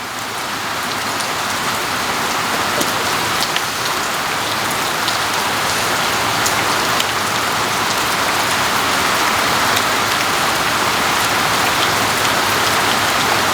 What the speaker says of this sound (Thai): ฝนหัวปี